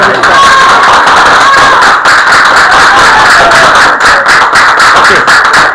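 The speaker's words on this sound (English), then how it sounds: "Give her a big round of applause." A crowd of ninth-grade students in a classroom claps steadily and loudly for several seconds, with voices mixed into the applause.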